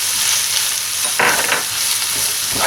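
Sisig frying in a pan while being stirred: a steady hiss of sizzling meat with scraping, clattering stirs swelling midway, close and fairly loud, no talking.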